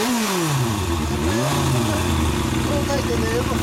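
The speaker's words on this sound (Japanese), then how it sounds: "エンジン音、エンジンかけてもらえます。" A motorcycle engine fires up and revs, its pitch rising and falling before settling into a loud, rumbling idle close by.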